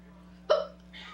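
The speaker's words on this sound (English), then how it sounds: "It's a case of chronic hiccups." A girl with chronic hiccups gives one sharp, close hiccup, followed by a fainter breathy sound over a low steady hum.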